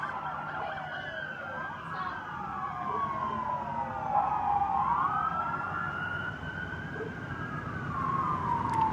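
Several police car sirens racing through traffic in San Diego after a shooting, wailing and overlapping in sweeping rising and falling tones against a constant rumble of city traffic, fairly distant and steady throughout.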